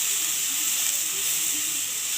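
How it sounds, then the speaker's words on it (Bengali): Onion paste frying in leftover fish oil for a katla fish curry, giving a steady, moderately loud hiss and sizzle throughout with no voices. "ভালোভাবে কষিয়ে দিতে হবে পেঁয়াজ বাটাটাকে।"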